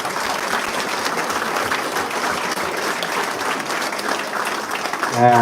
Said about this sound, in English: give them a round of applause then as well.